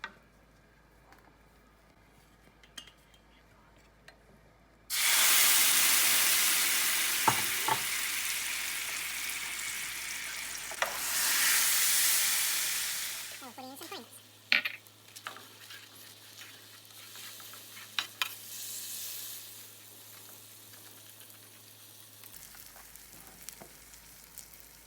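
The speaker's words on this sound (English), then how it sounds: "melting the sugar" Sugar and butter melting in a pan, a bright hiss of sizzling that starts abruptly, swells and fades, followed by quieter scattered crackles and a low background hum.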